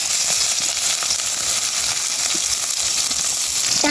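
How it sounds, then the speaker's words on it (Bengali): Rohu fish pieces fry in oil in a wok, giving a loud, steady, close sizzle and crackle with no break and no voices. "এবার মাছগুলা ভেজে নিব।"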